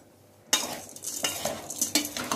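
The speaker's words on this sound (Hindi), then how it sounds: "अब इन सबको हम लोग कर देंगे मिक्स।" Carrot and beetroot bhel being stirred and mixed with lemon juice in a bowl, giving a run of close scraping, clinking strokes after a quiet start, with no talking.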